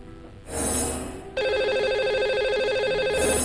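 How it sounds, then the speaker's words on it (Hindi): A telephone rings as a call goes out to a lucky caller on a radio show, a steady bright ringing tone that starts after a short first ring and continues loudly. "कौन बने हैं आज के हमारे लकी कॉलर, आइए उन्हें सबसे पहले फोन लगाते हैं।"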